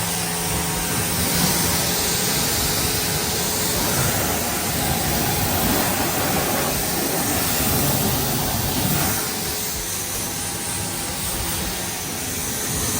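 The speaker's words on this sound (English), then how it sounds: "So we'll just spray this off." A steady, loud rushing hiss of water spraying continuously against a car's surface, with no pauses, close to the listener.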